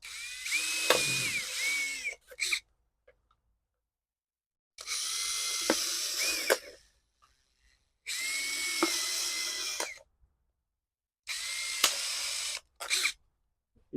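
A power drill boring small holes for planting cucumbers whirs in four separate bursts of a couple of seconds each, close and fairly loud, with short silences between them.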